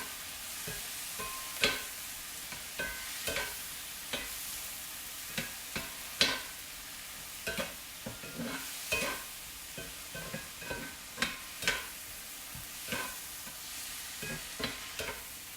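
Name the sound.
garlic frying and being stirred in a pan for marinara sauce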